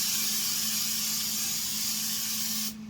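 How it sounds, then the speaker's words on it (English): Canola oil cooking spray hisses onto a pan in one continuous, loud, close spray that runs nearly three seconds and then stops abruptly. "All right, spray my pan down."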